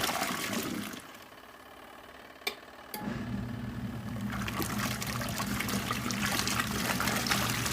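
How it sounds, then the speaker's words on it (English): Water pours and trickles into a portable washing machine tub, a short pause near the middle, then a steady filling stream with a low hum until the end; no one speaks. "Put lots more water in it this time."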